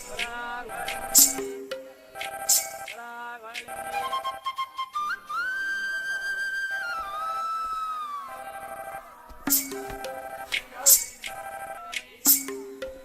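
A phone rings with a bright, repeating melodic tone in bursts of short electronic notes, interrupted midway by a rising and falling whistling tune before the ringing returns, fairly loud and close.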